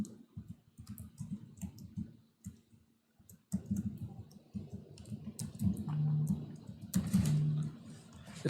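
Computer keyboard typing of Java code for a vector, a close run of quick irregular key clicks with brief pauses and a louder burst near the end, no speech.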